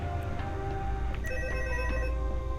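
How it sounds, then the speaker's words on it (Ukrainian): A phone ringtone rings inside a Roblox Five Nights at Freddy's game, a steady electronic melody of sustained tones over a low background hum. "Так, хто там мені дзвонить?"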